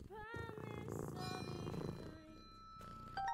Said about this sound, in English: You just pet the cat?